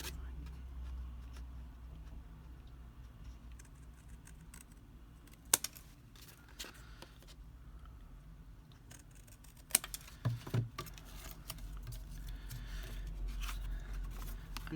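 Scissors snip the angled corners off a paper craft tag, a few sharp isolated cuts breaking up an otherwise quiet room hum.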